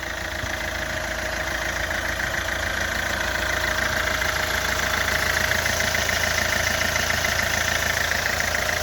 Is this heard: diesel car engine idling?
yes